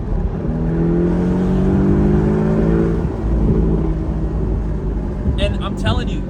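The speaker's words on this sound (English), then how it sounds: "the crackles and the pops are just what's so amazing." A 2018 Porsche 718 Boxster engine drones steadily and loudly from inside the car with people talking, then the exhaust gives a quick cluster of sharp crackles and pops near the end.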